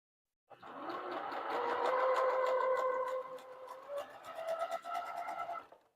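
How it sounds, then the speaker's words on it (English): Sewing machine stitching quilt pieces together, a steady motor whir that runs continuously for several seconds with a brief dip and restart near the end, fairly close and without talk. "we're just gonna sew these eyebrows to all of them"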